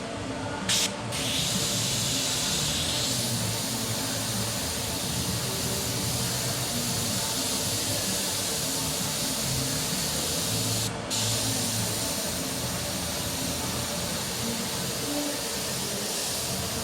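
An airbrush spray gun hisses steadily while painting a skull, a continuous close airy spray lasting about seventeen seconds with a couple of brief breaks near the start and middle.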